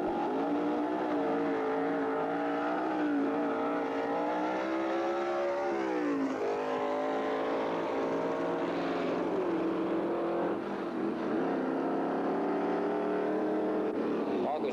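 V8 drag race cars, including a 307 cubic inch HQ Monaro, roar loudly at the line and launch, engine pitch climbing and sweeping through gear changes over a sustained, close rumble.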